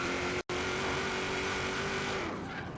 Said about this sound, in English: Love the sound of a supercharged V8